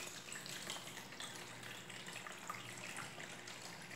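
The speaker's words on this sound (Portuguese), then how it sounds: "Eu vou derramar pra vocês verem. Vou tentar tirar a água toda" Water is poured off from a container while making coconut bar soap, a steady faint gushing trickle running for several seconds without talk.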